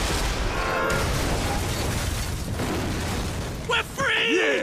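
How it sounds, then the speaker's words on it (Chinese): Fireworks burst outside in a film scene, a dense, continuous crackle and boom that fills the moment, mixed with other soundtrack sounds and a brief dropout near the end. "此时外面烟花阵阵，流光溢彩"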